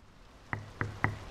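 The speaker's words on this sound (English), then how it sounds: "Jo, ich klopf mal." Three sharp knocks on a door in the video game Draugen, evenly spaced and clearly close, each a short hollow thud rising out of a quiet background.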